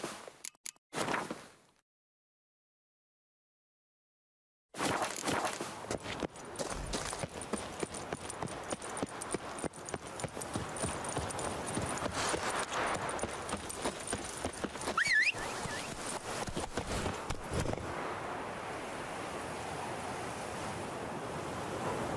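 Hooves of Roach, Geralt's horse, clip-clopping steadily in The Witcher 3: Wild Hunt's Blood and Wine expansion, a continuous close trotting rhythm layered with wind and surf-like ambience after a brief silent gap.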